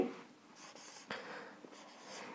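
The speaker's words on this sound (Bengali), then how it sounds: "এই যে সংখ্যার চিহ্নগুলো লিখছি আমি এখানে" Number symbols are written by hand, soft, quiet scratchy strokes with short pauses between them, recorded close in a quiet room.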